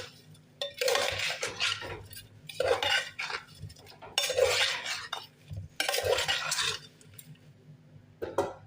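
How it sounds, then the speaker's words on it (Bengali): Goat meat being worked together with native spices in a metal bowl, giving repeated bursts of clinking, scraping utensil-on-pot stirring separated by brief pauses, close and moderately loud. "এখন আমি ভালোভাবে ম্যারিনেট করে নিচ্ছি"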